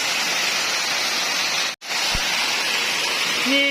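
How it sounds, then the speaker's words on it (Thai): Water falls inside a cave in Loei, Thailand, making a constant close hiss and roar. The rush cuts out for an instant midway, and a faint tonal sound appears near the end. "ต้นทางทางน้ำเป็นน้ำตกลงมาตรงนี้นะคะ"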